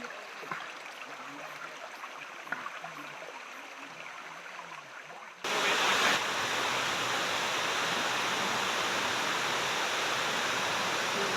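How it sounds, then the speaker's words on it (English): Water rushes steadily in a Sarawak rainforest stream, soft and gurgling at first, then a waterfall's dense roar takes over abruptly halfway and continues loud and unbroken with no voices. "I followed the stream to the waterfall."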